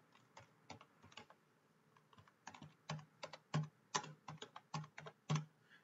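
Someone types on a computer keyboard while writing HTML and CSS code for a web page, with quick clusters of close, crisp keystrokes broken by short pauses.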